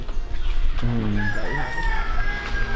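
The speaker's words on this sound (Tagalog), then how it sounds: "May manok." A rooster crows once, fairly close, with a rising then falling call over steady background noise.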